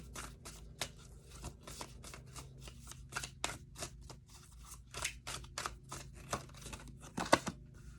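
Tarot cards riffled and shuffled in a steady run of crisp, papery flicks, close and fairly quiet, with a sharper burst of snapping near the end and no talking.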